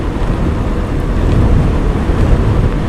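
Wind rushes past on a motorbike ridden with a family at around 70 to 80, a loud, continuous low roar and buffet against the microphone with no voices.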